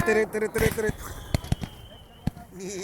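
Several sharp pops and bangs ring out amid cartoonish talking voices and music, with louder bursts spaced apart toward the end.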